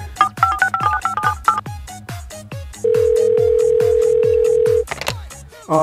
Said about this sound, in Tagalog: Tawagan pala ni Kapoy.